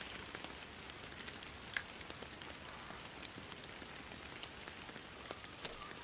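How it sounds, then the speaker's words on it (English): Steady rain patters on a surface in the Fishing Planet video game at Saint-Croix Lake, Michigan, a constant hiss with scattered drop ticks, soft and even throughout with no voices. "it is raining"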